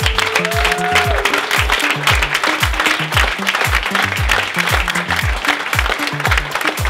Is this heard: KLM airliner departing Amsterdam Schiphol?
no